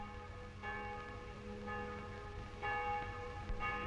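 Church bells ring in a steady sequence of tolls, each strike fading into a ringing hum, heard at moderate distance and fairly soft against a faint background.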